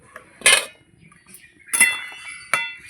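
A metal lid comes off a cooking pot of boiled soybeans with three sharp, close clinks spaced apart by quiet gaps, and no voices.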